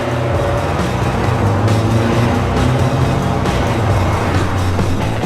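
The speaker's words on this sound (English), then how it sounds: "the engine is one of my favorite parts. It doesn't sound like your typical Bug." A Volkswagen Beetle engine runs steadily and loudly throughout, a deep rumbling drone with no talking.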